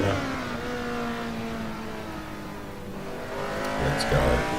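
A race car rising to full throttle in top gear at the start of a lap, a steady engine drone climbing in pitch, with a brief tire squeal near the end.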